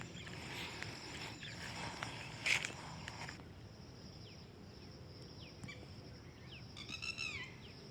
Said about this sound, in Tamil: அதுக்கு பேர் ஆக்காட்டி, அந்த குருவிக்கு பேர்.